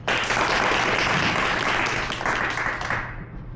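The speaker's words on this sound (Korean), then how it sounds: "박수 치려면 치고 말리면 마십시오." Audience applause greets a participant entering a staged courtroom-style reading contest: dense, steady clapping from a full room, loud and continuous for about three seconds before thinning out at the end.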